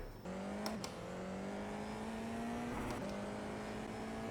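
A race car engine in a racing sim pulls out of the pits with a steady, rising drone, with two brief gear-change dips along the way. It stays moderately loud and alone throughout.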